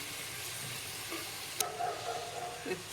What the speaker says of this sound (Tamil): தேங்காய் போட்டதுக்கப்புறம் ஒரு 2-3 நிமிஷம் நல்லா கிளறி விட்டுட்டு ஆற வச்சு பேஸ்ட் பண்ணி எடுத்துக்கலாம்